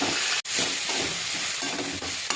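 Peas stir-fried with salt and turmeric in a wok give off a constant close sizzle and hiss. Spatula scrapes come through the frying noise, with one brief sharp knock early on and no talk.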